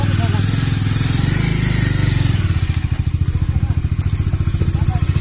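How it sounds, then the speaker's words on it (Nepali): A Bajaj Dominar motorcycle runs close by with a loud, deep, steady engine rumble that shifts into a more pronounced pulsing beat partway through, as though idling or pulling slowly. "one of my favourite bike Dominar मेरो फेभरेट हो यो बाइक"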